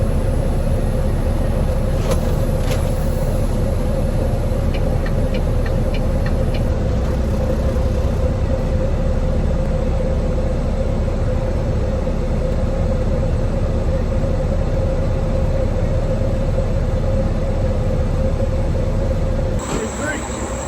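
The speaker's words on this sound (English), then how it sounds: "In the red truck, we practicing our shifting right now. Like up shifting and down shifting." A red truck drives along as its driver practices upshifting and downshifting a manual transmission, a steady loud engine and road drone running throughout with people talking over it.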